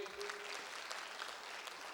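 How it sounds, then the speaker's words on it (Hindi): An audience at a National Voters' Day college event applauds a performer, a dense, even wash of clapping from many hands that holds steady throughout, with a faint voice underneath. "और एक बार और सराहना पारुल की"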